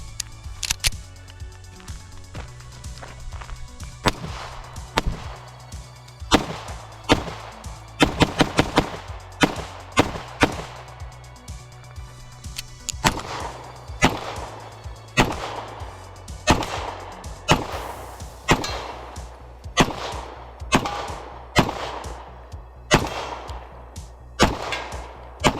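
Gunshots from a Beretta 92 pistol fitted with a GG92 two-port compensator, loud, sharp cracks fired in irregular bursts and single shots, roughly two dozen over the span, with no talking.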